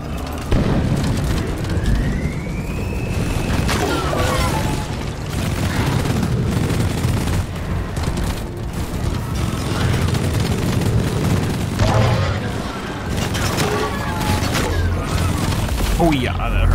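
Rocket blasts in Deep Rock Galactic, with booming explosions and crackling debris rising over a dense, loud battle din of gunfire and chaos, while a player shouts over the action.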